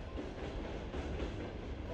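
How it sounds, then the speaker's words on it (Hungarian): A train runs along a railway line in a steady, continuous rumble with faint rhythmic clatter, heard alone at low level without speech. "Erre sok vonat jön megy"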